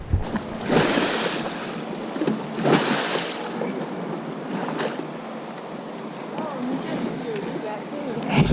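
A fishing boat speeds across Table Rock Lake, with rushing water, slapping waves and heavy wind buffeting the microphone, while someone talks and whoops over the noise.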